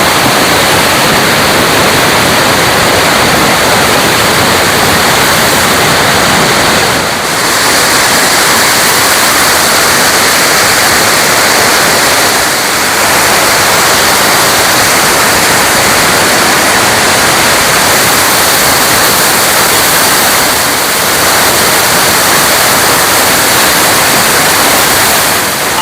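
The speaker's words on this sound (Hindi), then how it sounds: "सामने 7 वाटरफॉल 300 फुट ऊपर से नीचे गिरते हैं।" Seven waterfalls in Jammu and Kashmir plunge about 300 feet, giving a very loud, unbroken roar like dense white noise that fills the whole scene with no voices.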